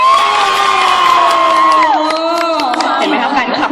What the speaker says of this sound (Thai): ขอเสียงกรี๊ดแฟนคลับเลยค่ะ